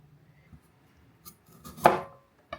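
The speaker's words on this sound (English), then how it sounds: "With the potatoes, any bits that are a bit gross or manky looking, I'm just going to remove with the knife" A knife cuts blemished, bad bits off raw potatoes with a few soft, sparse clicks and one sharper chop against a board, close up and quiet with no talking.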